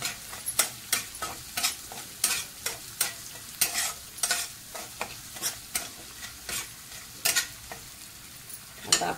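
Besan batter base sautés in oil in a pan, a steady sizzle broken by regular scraping stir strokes roughly every half second, close and clear, with no voices.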